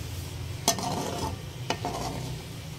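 Potato and egg curry is stirred in a pan, with soft frying sizzle and two sharp spoon clanks against the metal among quieter scraping sounds.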